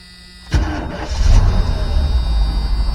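A 1985 GMC C25 pickup truck engine cranks and catches after a brief quiet moment, then settles into a loud, steady idle with a low rumble close by.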